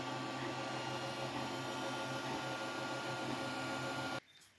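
A 3D printer printing a core for casting aluminium whirs in a steady, close mechanical drone with faint stepper tones, then cuts off abruptly just before the end.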